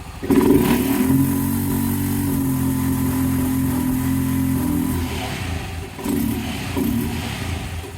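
A 2023 Honda Pioneer 700 utility vehicle engine with a faulty camshaft revs up sharply, then holds at a strained, flat pitch as if it can't climb higher, before dropping and revving briefly again. Loud and close.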